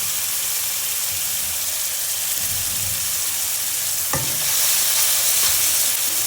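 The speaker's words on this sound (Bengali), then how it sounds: "মশলাটা কষিয়ে নেব তেল তেলে গেলে তখন ছোলাটা দিয়ে দেবো" Ginger, turmeric and cinnamon powder fry in oil in a pan, giving a steady loud sizzle with a single sharp clink of a utensil partway through and no speech.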